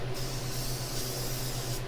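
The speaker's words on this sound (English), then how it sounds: "So spray a little bit first to make sure you get the material." Aerosol spray paint can spraying while coating an engine part, a continuous close hiss lasting almost two seconds with a sharp start and stop.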